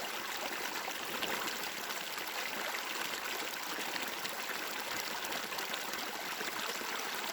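A hillside stream flows steadily over rocks, a constant close rushing and trickling of water with no voices and no breaks.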